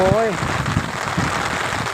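Rain falls on a natural canal while someone is fishing, a dense, even patter close by, with a voice briefly heard at the start.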